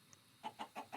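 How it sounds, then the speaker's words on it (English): Chickens in the Minecraft video game give a quick run of four soft clucks, faint and regular after a brief quiet start. "here's the chickens."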